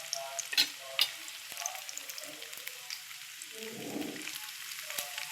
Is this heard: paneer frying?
yes